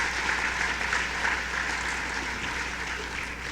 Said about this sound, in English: let's give a big hand of applause for all of our student speakers